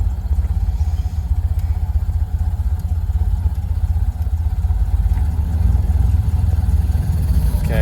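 A Model A Ford engine runs steadily while the car is driven, a loud continuous low rumble with rhythmic clatter, close and uninterrupted with no talking.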